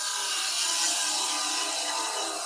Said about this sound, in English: So really just swinging the handle of the bowl gouge out as we come around that curve.